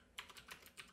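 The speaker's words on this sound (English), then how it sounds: "I'm typing these tweets in a house build video" Quiet keystrokes tap on a computer keyboard, a handful of light, uneven clicks in a brief burst, faint and close with no voices.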